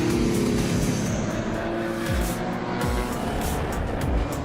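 Porsche 917 race car at the CanAm Revival at the Hockenheimring, its engine roaring loud and close without pause, revs rising and dropping through gear changes, with a faint tire squeal.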